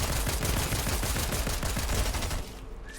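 Rapid automatic gunfire from an unfamiliar weapon in a video game, with a dense, loud burst of shots that cuts off abruptly near the end.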